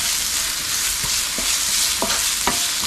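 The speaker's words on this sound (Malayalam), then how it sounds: "ഇതൊന്ന് പതുക്കെ സോട്ട് ചെയ്തെടുക്കാം" Chopped onion with salt sautéing in a pan, a steady close sizzle and hiss with a few soft scraping stirs of a utensil against the pan.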